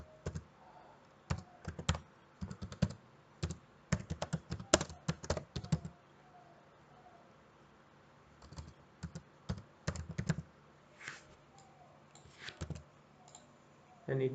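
Keys clatter on a computer keyboard while a map title is typed in ArcGIS, coming in quick bursts of close, crisp clicks separated by short pauses, fairly quiet overall.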